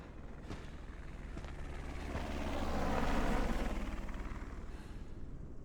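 In the Resident Evil Requiem video game, a helicopter's rotor wash rises and then fades as it flies off, a broad steady whirr with faint clicks over it.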